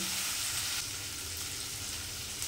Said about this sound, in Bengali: ওভেনটা এখন একটু বাড়িয়ে দিচ্ছি, দিয়ে এটাকে একটু ভাজা ভাজা